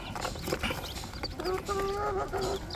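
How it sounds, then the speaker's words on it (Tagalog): Newly hatched Rhode Island Red chicks peep and chirp busily in a close, cluttered chorus, with a longer, sustained tonal call in the middle stretch and a steady background bustle throughout. "Ito yung pasisiw natin"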